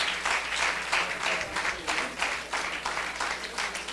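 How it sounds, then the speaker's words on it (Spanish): Steady applause from a crowd, continuous clapping with no pauses throughout. "Así un fuerte aplauso para Isaac."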